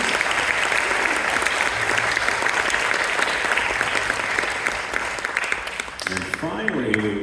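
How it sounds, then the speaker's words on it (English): Concert audience in a high school spring concert applauding steadily, a dense sustained wash of clapping from start to finish, with voices rising briefly near the end. "So a round of applause for our band parent association members."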